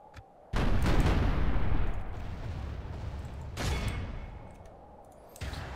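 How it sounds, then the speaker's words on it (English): Mortar bombardment of a town square during a Total War: Warhammer battle: a loud burst of booming explosions erupts after a brief lull and rumbles on, with a second heavy blast swelling midway and another near the end. "we'll put my mortars in range where we can start bombarding the town square"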